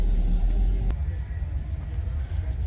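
A 1972 Ford F750 truck idles with a low, steady engine rumble while being maneuvered to park, loud and close throughout, with one brief sharp knock early on.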